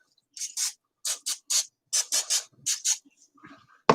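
Cooking spray on a pizzelle iron, about a dozen short hissing bursts in quick groups, close and clear against silence.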